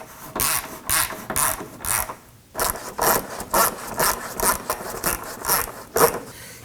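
Rapid ratchet clicking in repeated short bursts as a 12mm socket snugs down the control arm bolts at the cross member of a 2018-2024 Toyota Camry, close and clear with no talk.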